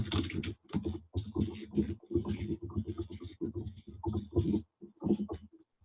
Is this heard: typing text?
yes